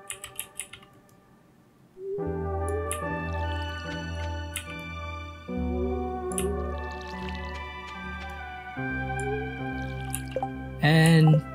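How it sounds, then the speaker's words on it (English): Crops being watered with a watering can in Stardew Valley, a run of soft drip and splash effects repeating over looping game music, ending in a brighter burst. "water the rest of the area."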